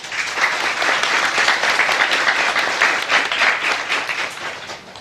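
Sustained applause from an audience at an official ceremony, a dense and steady wash of many hands clapping at close range for the full stretch with no voices on top.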